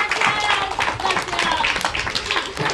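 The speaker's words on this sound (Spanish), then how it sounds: "8, aplauso, por favor." A crowd claps and cheers in a brief burst of applause, with voices mixed into the noise.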